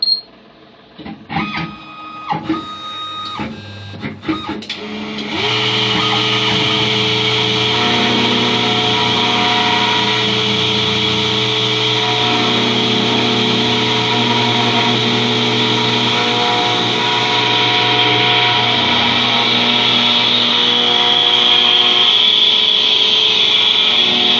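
A Silica Triax-e key cutting machine starts with a few short clicks and whirs, then spins up into a loud, steady motor drone with a tonal hum that runs continuously for nearly twenty seconds, close up and with no talking.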